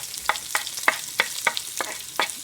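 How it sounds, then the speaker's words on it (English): Garlic frying in a pan, a close sizzling hiss broken by about eight evenly spaced scraping strokes of a stirring utensil, with no talking. "the garlic is changing color, so let's put the garlic."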